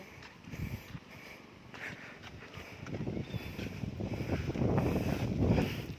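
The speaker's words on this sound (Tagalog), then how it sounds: "Grabe mas ang hangin dito." Strong wind roars and buffets the microphone at a farm campsite in Tayasan, Negros Oriental, swelling louder toward the end, with no one speaking.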